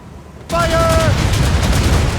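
In Assassin's Creed Rogue, a sudden, loud musket volley bursts from near-quiet into a sustained rattle of gunfire and battle noise, with a brief shouted voice at its start.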